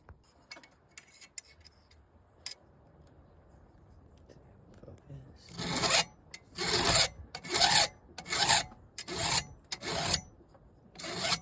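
A round chainsaw file rasps along the blades of a Stihl hedge trimmer in a quick touch-up sharpening, with faint scrapes first, then six loud, regular strokes close up.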